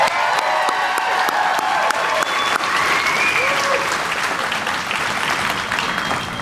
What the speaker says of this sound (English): Give Jasmine one more big, loud round of applause.